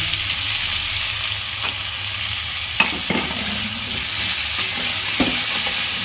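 Pumpkin curry with turmeric, salt and sugar stir-fried in a pan gives a steady close sizzle, broken by occasional scrapes and taps of the spatula.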